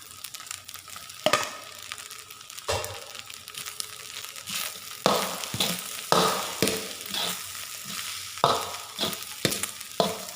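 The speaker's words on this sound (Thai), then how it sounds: "ผมทำการใส่ไข่ที่เราทอดไว้ลงไปครับ" Fried egg being tossed into fried rice in a pan, with a sizzling bed broken by repeated sharp spatula scrapes and clanks in an irregular rhythm, close and fairly loud.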